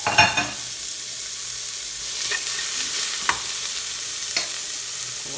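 Onion and garlic sizzle in hot olive oil in a pressure cooker, a steady frying hiss with a few sharp stirring scrapes against the pot, close and fairly loud, no talking.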